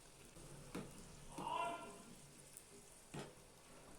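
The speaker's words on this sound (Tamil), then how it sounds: "சூட்டில் இருக்கிறப்ப சமோசாவை 3 நாளாக பொரித்து எடுத்துக்கலாம்." Onion samosas deep-fry in hot oil, a faint, steady bubbling sizzle with a few louder sputters and soft utensil knocks, close and quiet.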